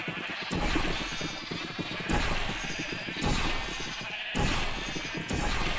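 Sheep in Minecraft bleat in four evenly spaced bursts, each loud and close, carrying a grainy, wavering texture over a steady game background.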